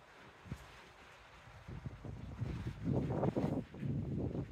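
Wind buffeting and surging waves at sea, heard from the deck of a Carnival cruise ship on the Mardi Gras, rising in gusts toward the end, with no talking.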